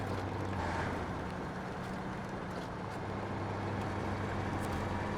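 Steady, fairly quiet diesel drone of a heavy truck in SnowRunner, an International Eagle 9400F, rumbling continuously at low pitch with no breaks and no voices.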